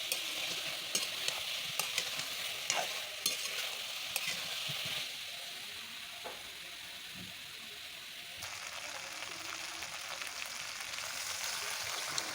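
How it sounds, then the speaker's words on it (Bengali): A fish curry with eggplant sizzles as it is stirred in a pan, with a steady frying hiss broken by scraping strokes of the spoon and a few sharp clinks, heard close and alone. "আলতো হাতে কিছুক্ষণ নাড়িয়ে নিয়ে আমি ঝোলের পানিটা দিয়ে দিচ্ছি।"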